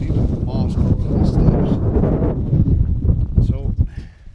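Strong wind buffets the microphone outdoors beside a fifth-wheel trailer, a loud, continuous gusting rumble with uneven surges, while someone talks over it.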